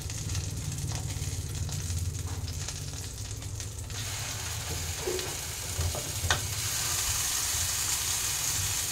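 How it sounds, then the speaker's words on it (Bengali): Spice paste going into hot oil with cardamom and cinnamon in a pan, giving a loud continuous close sizzle with stirring scrapes and a few sharp clicks of the utensil. "এতে আমি সমস্ত মশলাটা পেস্ট করে নিয়েছি, মশলাটাকে দিয়ে দেবো।"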